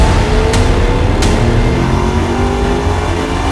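A turbocharged 4.8 Silverado engine revs hard on a dyno: a loud, steady roar whose pitch climbs gradually, with two sharp clicks early on.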